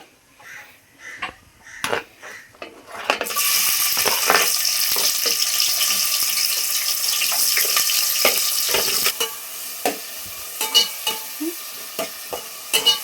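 Onion, tomatoes and green chillies hit hot oil for a chicken gravy curry, setting off a steady, loud sizzle that keeps going for several seconds, with a few stirring clacks and utensil taps in the pan before and after.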